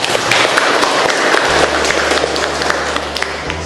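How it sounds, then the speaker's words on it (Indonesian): Classroom audience claps for a student teacher after a practice teaching session, a loud, dense burst of applause filling the room steadily throughout with no talk over it. "Tepuk tangan untuk Baso Witara"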